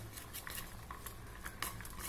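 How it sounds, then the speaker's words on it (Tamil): Chopped onions being mixed with masala in a big bowl, making close, steady wet scraping and patter with light clinks of a utensil and no voices. "ஆனியன் போட்டு நல்லா மிக்ஸ் பண்ணி விடணும்."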